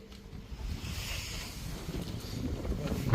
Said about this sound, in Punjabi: ਹਵਾ ਚੱਲਦੀ ਪਈ ਏ।